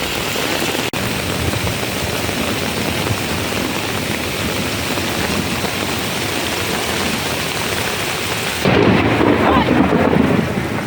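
Thunder during an autumn rainstorm: a loud, continuous rumble over heavy rain, swelling and growing louder near the end.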